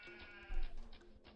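Sheep bleat in an Alawar video game, a quavering game-sound cry lasting about a second over a quiet background, fairly soft.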